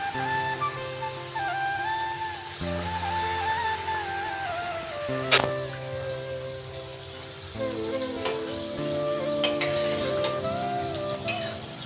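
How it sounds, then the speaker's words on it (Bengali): Palm fruit fritters (taler bora) deep-frying in hot oil, a steady close bubbling sizzle that runs throughout with a few sharp crackles and soft clinks, with music playing over it and no talking. "তো এটাকে আমি লাল লাল করে ভেজে নিব।"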